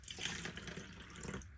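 Water runs steadily from a tap into a container during a toddler's colour-mixing science activity, a close, continuous splashing hiss lasting under two seconds with no talk over it.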